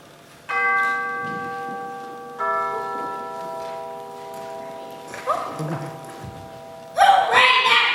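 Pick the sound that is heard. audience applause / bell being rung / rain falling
bell being rung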